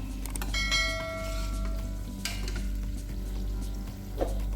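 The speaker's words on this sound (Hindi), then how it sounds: "लाइट गोल्डन ब्राउन होने तक हम इनको फ्राई कर लेंगे।" Two medium onions, roughly cut, fry in oil inside a pressure cooker for a mutton dish. A steady sizzle runs under a low hum, with faint ringing tones and a brief clink near the end.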